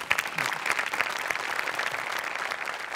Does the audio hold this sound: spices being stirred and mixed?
no